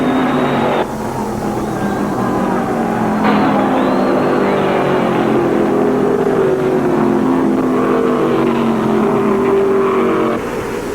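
NASCAR stock cars race in the 1974 World 600, a loud pack of engines roaring together with shifting, rising and falling pitches as cars surge past, steady and dense throughout.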